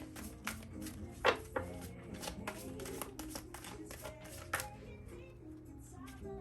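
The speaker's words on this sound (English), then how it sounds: "In a second, I'm going to cut this deck." Tarot cards shuffled and cut by hand, giving a string of soft papery riffles and taps with a few sharper snaps, close and fairly quiet, under a steady low background hum and faint talk.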